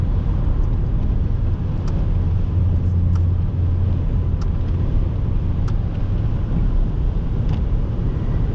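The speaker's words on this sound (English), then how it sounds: "Lots of trucks." Heavy trucks pass on a road through remote wilderness country, a loud continuous engine and tire rumble that stays steady throughout, with no talking.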